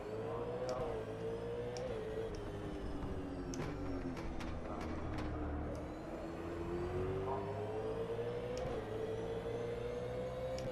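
A V8 Supercar engine in the rFactor 2 sim racing game, revving and droning continuously with pitch rising and dipping through corners and gear changes, loud and close with no talk.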